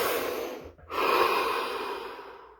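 A deep, slow breath close by: a long airy inhale, a brief pause, then a sustained exhale that gradually fades, with no talking.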